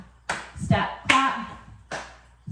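Sharp hand claps marking the steps of a country line dance, a few distinct percussive hits spaced through the pattern, close and fairly loud, with an instructor's voice calling the steps over them.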